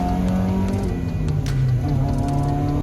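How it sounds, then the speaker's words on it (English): A Mazda Miata sports car engine revs hard toward redline, a loud, continuous engine note with rising and shifting harmonics that holds throughout without a break. "the engine is extremely exciting to rev out"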